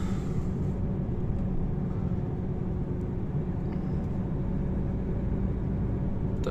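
A Mercedes test car, heard as a steady low rumble of engine and road noise that holds at an even level throughout, with no voices.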